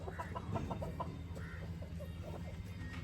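Chickens cluck and a rooster calls in a farm barnyard, with a busy run of close clucks and short calls over a steady low background hum.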